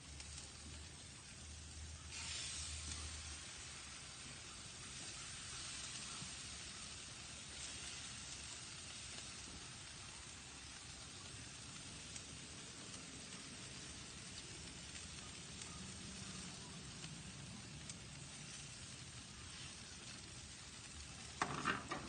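A pork roast sears on a barbecue grill with a quiet, steady sizzle and hiss, faint and continuous throughout with no talking.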